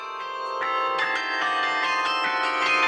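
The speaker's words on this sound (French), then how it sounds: "apprennent le carillon depuis 2 ans" Carillon bells played by young learners, a run of ringing bell strikes with overlapping resonant tones and a steady sustained wash of chimes, loud and close with no voices.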